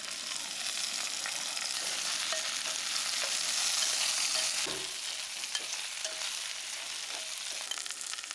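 Pre-fried bananas are stir-fried in hot oil with sautéed shallots and garlic in a pot for a Northern-style snail, banana and tofu stew. A steady, close sizzle runs throughout, with scraping stirs breaking through and no talking.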